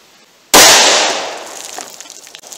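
A single loud shot from a revolver firing a .327 Federal Magnum Hydrashok round, a sharp close blast that rings out and decays over about two seconds with faint rattling debris after.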